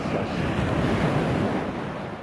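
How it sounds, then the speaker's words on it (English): Ocean waves wash onto a beach in the Philippines in a steady, loud roar of surf, with wind buffeting the microphone throughout and no voices. "So listening to the waves"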